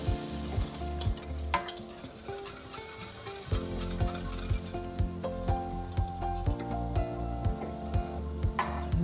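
A spoon stirs a dumpling through buttermilk potato soup in a pot, giving a rhythmic series of scraping, knocking strokes close up, with a steady bubbling sizzle underneath and no talking.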